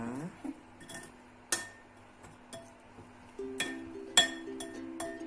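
A spoon scraping and tapping around the sides of a glass cup of soufflé batter gives sparse, bright clinks and small scrapes, close up, with quiet voices at times.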